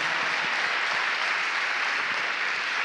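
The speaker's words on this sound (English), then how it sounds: "That deserves a hand clap all by itself." Audience applause fills the room, a steady dense wash of many hands clapping, close and sustained without pause or voices.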